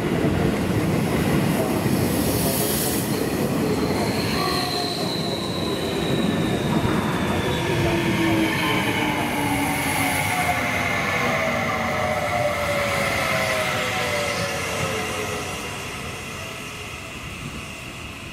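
A Seibu 30000 series electric train with Hitachi IGBT-VVVF drive rolls into Shin-Tokorozawa station steadily with rumbling wheels and rising metallic squeals, continuous and fairly close, slowing and easing off toward the end.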